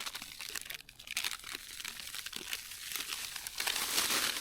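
Plastic crinkles and rustles up close for a few seconds, crisp crackling bursts growing louder toward the end, with no voices.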